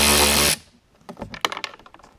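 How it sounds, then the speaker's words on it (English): A loud, steady whir of a power tool with a Torx bit removing a bolt from a 2014 Jetta TDI door runs for half a second, then cuts out, followed by light clicks and metallic rattling. "Oh yeah, we're going to use power tools."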